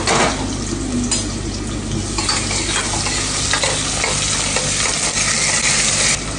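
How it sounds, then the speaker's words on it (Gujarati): Onion added to cumin seeds frying in oil in a pressure cooker, stirred with a loud, continuous sizzle and hiss that stays close and steady with no talking. "ઓનિયન નાખીશું."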